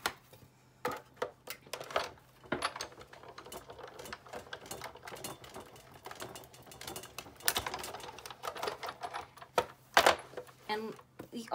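Repeated crisp snips and clicks from cutting an adhesive border trim sheet for a craft project, uneven in rhythm and close by, with a person talking over much of the cutting.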